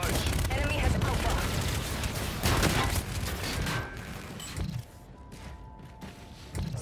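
Gunfire from Call of Duty: Infinite Warfare, dense bursts of shots and battle noise in the game's multiplayer, loud and continuous before thinning out, with voices talking over it.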